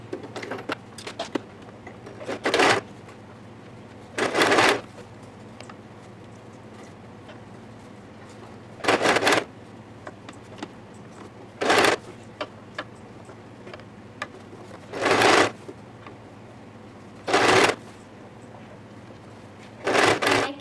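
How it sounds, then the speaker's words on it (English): A sewing machine stitching the back seam of a kurti, running in about eight short separate bursts spaced by quiet pauses over a low background hum, close by. "Now for the back side, I'll turn this inside and make a stitch line."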